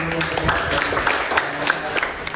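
A classroom of students applauds a student group after its presentation in a history lesson, a short burst of scattered clapping with voices mixed in.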